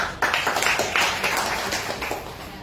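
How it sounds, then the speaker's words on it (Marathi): A small group claps for children's creative work, a short burst of scattered, fairly close hand claps that tapers off after about two seconds. "याच्यासाठी टाळ्या होता"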